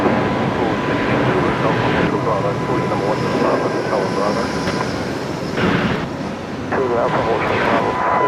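An airliner takes off from a runway at Brisbane Airport, its engine roar broad and steady throughout, with radio chatter and voices talking over it.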